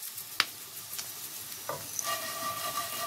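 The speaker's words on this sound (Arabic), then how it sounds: "ها هي تحمرات لينا البطيطة، ها هي زيت الزيتون البكر." Potatoes frying in virgin olive oil with a steady soft sizzle, a few scrapes and clicks of stirring scattered through, close up with no talking.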